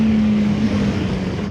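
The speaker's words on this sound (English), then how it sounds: "Downshift to third at low revs" VOGE RR 500 S motorcycle engine running at low revs in third gear after a downshift, a steady droning hum with a low tonal line throughout, loud and continuous, no speech.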